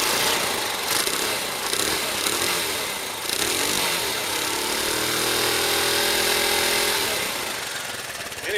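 A Kawasaki KLR motorcycle engine idles and revs on its stock exhaust, a loud continuous rumbling drone that rises in pitch partway through, close by with no talk.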